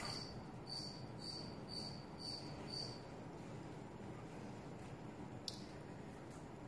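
Cricket chirping indoors in short regular pulses, faint and thin against a quiet house hum, fading out after a few seconds.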